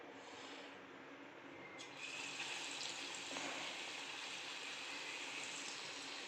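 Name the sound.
paneer pakoras deep frying in oil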